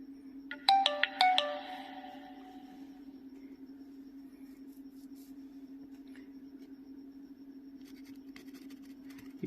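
A Jio 220B feature phone plays its short startup tune while powering on: a quick burst of bright, rising chime notes lasting about a second, then a steady electronic hum with faint clicks.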